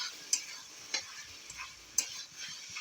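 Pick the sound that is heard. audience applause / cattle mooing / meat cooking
meat cooking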